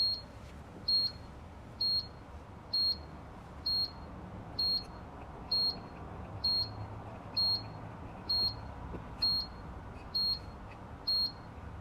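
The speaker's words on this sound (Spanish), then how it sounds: "incluso tiene una alarma sonora" A high-pitched electronic alarm from a CO2 meter beeping steadily, about one short beep per second, repeating over a low background rumble.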